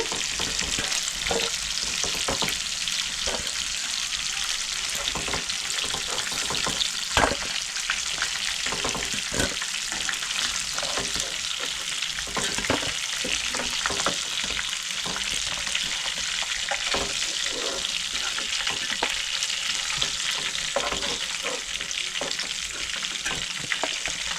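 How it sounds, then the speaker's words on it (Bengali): Stingray pieces (shankar fish) fry in hot oil, giving a steady, close sizzle with crackling pops that continues evenly throughout, no voices. "আর এক পিঠ লাল করে ভেজে নেবো"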